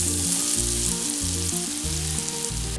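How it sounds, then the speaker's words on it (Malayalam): Sliced okra chips deep fry in hot oil, a steady close hiss of bubbling with soft rhythmic scraping or stirring knocks underneath, and no voices. "ഇത് കണക്കെ എല്ലാം വറുത്തെടുക്കാം."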